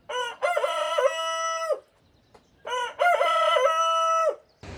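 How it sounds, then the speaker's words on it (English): Roosters crowing at dawn outside a room in Ollantaytambo, Peru, near Machu Picchu. Two long, loud, close crows come one after the other with a short gap between them, with no talking. "Got woken up by some roosters about an hour earlier than my alarms"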